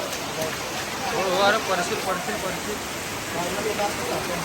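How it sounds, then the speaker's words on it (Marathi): Steady, dense hiss of heavy rain pouring down, with people talking faintly under the downpour. "आता पाऊस बघा किती आहे"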